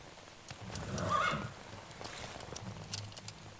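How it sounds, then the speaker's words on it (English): A horse in the video game Metal Gear Solid 3: Snake Eater gives a loud whinny, and hoof clip-clops and scattered clicks follow. "This seems like terrible terrain for a You horse."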